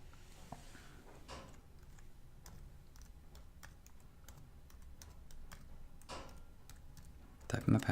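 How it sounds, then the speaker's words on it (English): Password being typed on a computer keyboard, with soft scattered keystroke clicks at an irregular pace under low background noise, ending in a louder burst of handling. "Type in my password."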